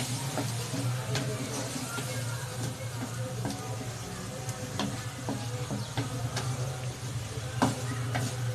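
Chicken is being fried and stirred in a pan, with a steady close sizzle running throughout. Light scraping taps of a spatula land against the metal at scattered moments.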